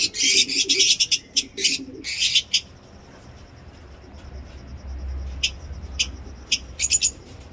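Pet lovebird parrots in an aviary with cages and birds loose nearby, giving quick bursts of shrill chirping calls close by, broken by a stretch of quieter pauses before a new flurry of sharp chirps.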